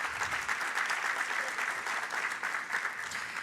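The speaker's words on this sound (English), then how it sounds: "So let's give him a round of applause for that great welcome." An audience at a riverway summit claps in sustained applause, an even, dense patter of many hands that holds throughout without talk.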